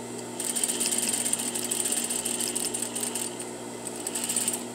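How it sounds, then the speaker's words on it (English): A sewing machine stitches back over an existing line of stitching on a welt-bound pocket, giving a steady, close mechanical whir with rapid needle ticking and no talk. "You want to go right over that stitch."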